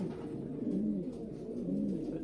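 Racing pigeons cooing in a loft, a steady stream of soft, rolling coos from several birds overlapping continuously at close range, with no talk.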